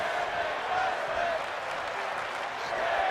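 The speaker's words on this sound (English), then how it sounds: "To crowd showing appreciation for this one." Crowd applause and cheering from a WWE 2K25 wrestling match, a steady, broad wash of clapping under a commentator's voice for the whole stretch.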